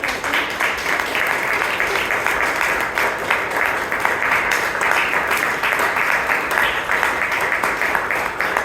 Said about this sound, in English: Let's give a round of applause to our VP Education